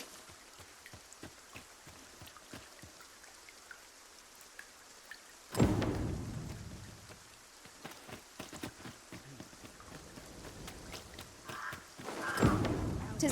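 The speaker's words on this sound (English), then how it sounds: "Tis raining. We mustn't let ourselves become soaked to the skin." Rain falls steadily in the video game Dragon's Dogma 2 as a soft constant hiss. A heavier burst swells in midway and builds again at the end, with patches of game speech over it.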